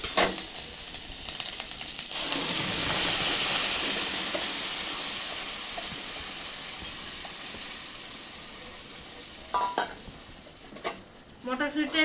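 Ground green pea paste hits a pan with ginger and fennel paste, giving a loud broad sizzle that swells and slowly fades, followed by a few sharp scraping stirs near the end.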